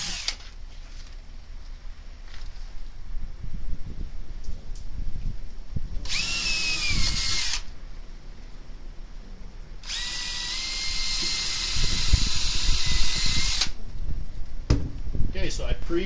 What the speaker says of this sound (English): I pre-drilled my holes so I won't split the wood